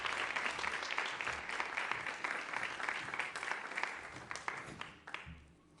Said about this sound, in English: please, with a huge round of applause